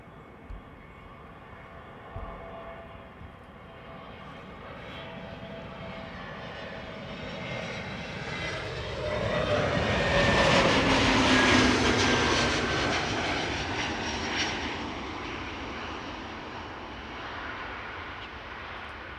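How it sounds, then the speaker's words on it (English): A narrow-body jet airliner arriving from London Heathrow passes overhead, its engine roar building gradually from a distant whine to a loud, sweeping peak and then slowly fading away. "Behind us we have a narrow body arriving from London Heathrow."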